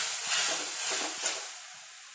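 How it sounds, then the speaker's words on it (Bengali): Spice paste frying and being stirred in a pan for bitter gourd curry, a dense close hiss with light scraping that eases off toward the end. "দিয়ে একটু মশলাটা কষে নেব।"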